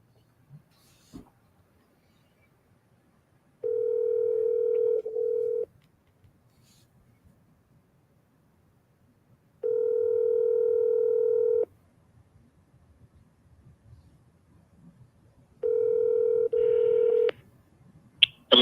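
Three separate steady phone tones, each lasting about two seconds, sound from outbound calls against a quiet background with a few soft clicks and no talking.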